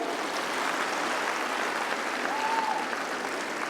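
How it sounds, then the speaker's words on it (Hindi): A steady wash of crowd applause fills the whole stretch, dense and even, with a brief faint whistle rising above it near the end. "अपने लिए जोरदार ताली बजाओ भाई।"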